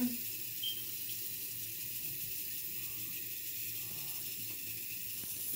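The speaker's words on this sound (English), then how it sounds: "just run it under hot water" Hot water pouring steadily from a tap into a sink, a continuous even rush with faint clicks and voices barely audible underneath.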